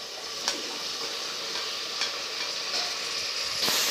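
Chilli, salt and tomato stirred in a pot produce a soft, even sizzle, with a few distinct scraping strokes of the spoon spaced a second or more apart.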